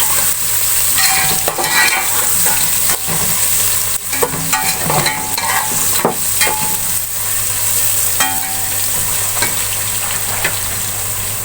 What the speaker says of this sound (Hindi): लहसुन को थोड़ी देर भून लेंगे।